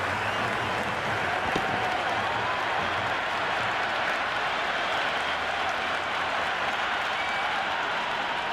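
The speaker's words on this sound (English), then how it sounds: "The crowd is electric right now." Cricket 26 video game stadium crowd roaring in a steady, sustained wash of cheering and applause that holds even and loud throughout, with faint commentary-like voices underneath.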